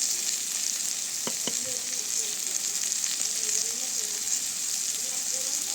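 Chili powder going into a sizzling pan of village-style egg, drumstick and prawn curry, a steady close hiss of frying with a couple of light knocks near the start, and a faint voice briefly in the background.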